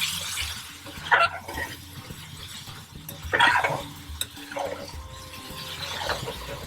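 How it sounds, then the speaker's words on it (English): Base gravy poured into a hot pan of chicken chasni hisses and bubbles, with a couple of louder splashing stirs rising over a low steady simmer. "so now I'm going to add 1 full ladle of base gravy."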